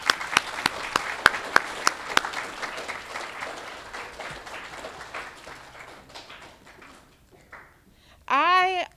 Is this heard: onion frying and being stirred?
no